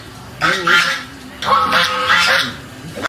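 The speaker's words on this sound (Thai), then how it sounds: "เป็ดครับ เป็ดครับ เป็ดครับเห็นป่ะ" A duck calls nearby in two loud, nasal bursts of quacking and honking, each lasting about a second with a short pause between.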